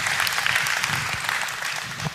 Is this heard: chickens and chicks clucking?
no